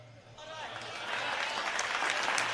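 Applause from a comedy show audience swells from quiet to a steady, moderately loud wash of clapping, with a voice speaking faintly near the start.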